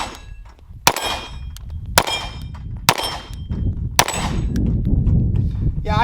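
Four sharp Sig P320 pistol shots about a second apart, each followed by a bright metallic clang as the round strikes a small steel target, ringing briefly before the next shot.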